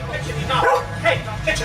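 A small dog yips and barks a few times over people chatting near a table where vegan pies with mushroom gravy are being eaten, the barks close and mixed into the talk.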